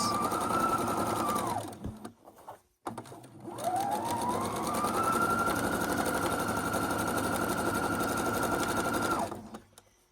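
A sewing machine stitches quilt rows together, its needle running in a fast, steady whir that halts briefly and then starts again for a long continuous run, close and clear.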